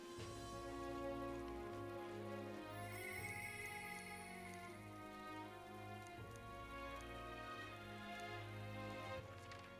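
Rain falling in the video game Metaphor: ReFantazio, a steady wash of drops that runs unbroken under sustained, layered game music with no voices.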